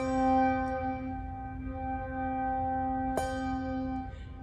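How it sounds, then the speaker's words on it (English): Tower bells rung by swinging, a sustained bright ringing tone with steady harmonics that lingers, one sharp fresh strike partway through, heard alone without talk. "Makes the bells sound like they're going back and forth in the tower."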